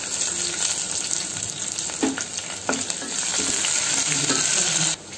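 Green chillies sizzle and crackle steadily in hot oil in a pan, with occasional soft stirring knocks, and the frying noise drops suddenly near the end.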